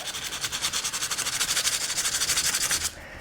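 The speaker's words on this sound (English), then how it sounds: "you can kind of see when you sand it up" Sandpaper rubbed over the tin or aluminum metal skin of a steamer trunk in quick, even back-and-forth strokes, close and steady for about three seconds before stopping abruptly; no talking.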